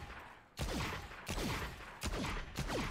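Four sharp Desert Eagle pistol shots ring out in a Valorant firing range, evenly spaced about two-thirds of a second apart, each a loud crack with a short ringing tail.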